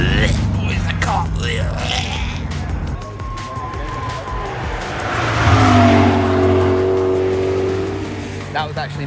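A rally car passes on a road at the Nürburgring, its engine rising loudly as it approaches and sweeps by close, then fading, with some voices nearby.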